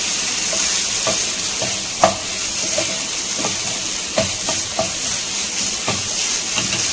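Grated coconut roasting in a pan for Vinayagar Chaturthi kozhukattai filling, a close steady sizzle broken by frequent scraping stirs and occasional sharp utensil taps against the pan.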